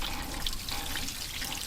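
Coolant water runs weakly through the engine of a 1952 Chevrolet, a soft steady trickle and splash heard close with no voices over it.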